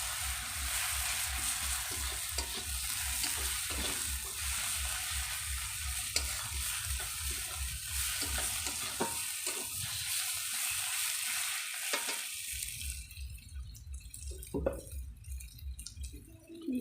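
Rui fish frying in a pan for a fish curry, a steady close sizzle with repeated stirring and scraping, briefly quieting near the middle before resuming.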